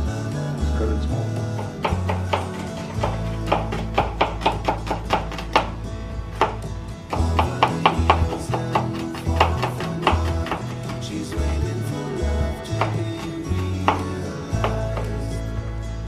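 Knife chopping food into small pieces on a cutting board, a long run of close, rapid, sharp taps in quick bursts with brief pauses, over a low background hum and no talk.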